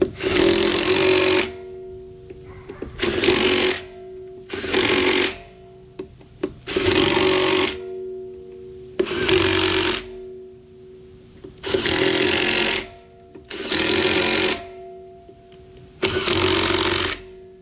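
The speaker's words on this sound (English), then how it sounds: "This is just a 3/8 Bauer impact, nothing strong." A small 3/8-inch Bauer cordless impact wrench on its smallest battery, tightening wheel bolts in a criss-cross pattern, sounds off in eight separate loud bursts of hammering whirr. Each burst lasts about a second, with short quiet gaps between them.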